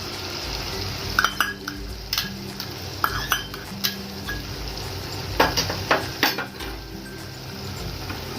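Prawn curry frying in a pan as beaten yogurt is stirred in, a steady sizzle under scattered clinks and scrapes of a spoon against metal, close and moderately loud, with no speech.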